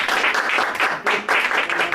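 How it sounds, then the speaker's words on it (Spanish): Strong, lively applause from a church congregation welcoming a preacher, dense and continuous with a short dip midway, no voices heard over it. "Recibámoslo con un fuerte aplauso."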